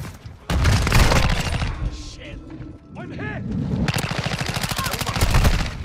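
Rapid bursts of light machine gun fire from Modern Warfare 2, loud and close, with a brief lull midway before another long rattling stream of shots, broken by a short voice exclamation.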